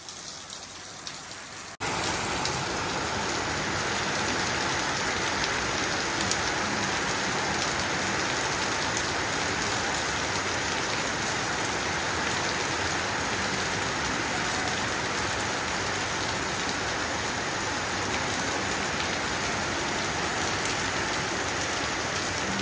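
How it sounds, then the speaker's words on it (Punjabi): Heavy rain in Punjab begins after a short quiet moment and then pours steadily and densely for the rest of the time, a loud, even wash of drops with no voices. "ਲਗਾਤਾਰ ਹੀ ਮੀਂਹ ਪੈ ਰਿਹਾ, ਹੁਣ ਥੋੜ੍ਹਾ ਮੰਦਮ ਹੋਇਆ"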